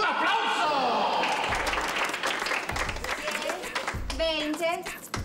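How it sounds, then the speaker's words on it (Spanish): Applause rises from a lively crowd at a street auction or comedy sketch, steady clapping filling the clip while voices shout and someone speaks over it. "¡Un aplauso!"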